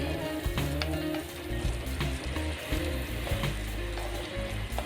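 Sliced onions sauté in rendered beef fat for a beef curry, with a dense, continuous crackle and sizzle close by and some scattered pops and clinks. No voices.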